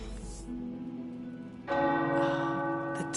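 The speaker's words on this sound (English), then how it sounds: "Tower bells are ringing." Tower bells ring in the video game Marvel's Midnight Suns, sustained resonant tones that swell louder partway through and keep ringing to the end.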